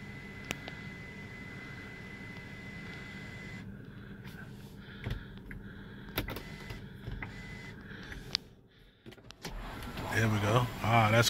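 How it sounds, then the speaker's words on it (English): The panoramic sunroof on a 2019 Volkswagen Tiguan opening: a steady electric motor whirr inside the cabin, with a soft mechanical clunk as it ends and talk heard now and then. "Sunroof, guys."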